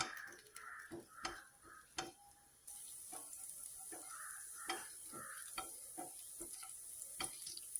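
Finely chopped ginger fries in a teaspoon of olive oil in a kadai, a steady soft sizzle broken by repeated spoon scrapes and taps, close and fairly quiet.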